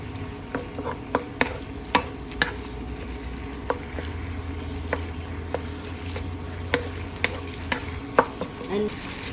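A spoon stirs picadillo soup with patis in a pot, giving sharp clicks and scrapes against the metal at an irregular pace over a soft bubbling simmer.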